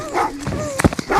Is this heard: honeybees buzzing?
no